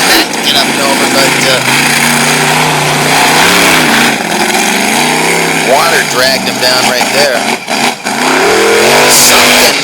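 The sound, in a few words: monster truck engine revving during a race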